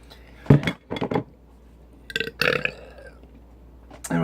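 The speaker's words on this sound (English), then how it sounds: "with that shitty ass burp" A loud, close burp after drinking Colt 45 malt liquor from a 32 oz can, two guttural bursts followed by a longer rasping belch, with faint clinks of a can or glass nearby.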